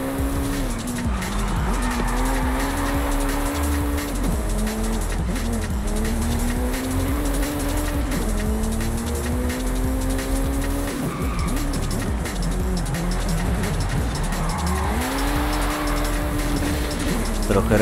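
Tires squealing as a car skids under handbrake in the racing game Forza Horizon 5, with sustained screeching sweeps over a constant roaring engine and someone talking over it.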